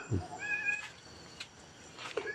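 A cat meows several times at a rural home in Thailand's Lampang countryside, with short close calls spread across a couple of seconds over faint background noise.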